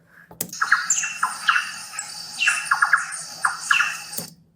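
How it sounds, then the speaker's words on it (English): Birds that feed on papaya squawk and squeal loudly and close by, repeated harsh calls in uneven clusters over a steady bright background, with a sharp click at the start and end. "I thought I might like that bird soundtrack. It's just the sound of birds for like 2 minutes."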